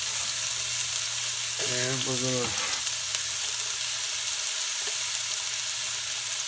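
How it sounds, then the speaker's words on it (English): Onions fry in heated vegetable oil in a pan, giving a steady, close sizzle throughout while a voice speaks briefly over it. "I'm sure you can hear it sizzling."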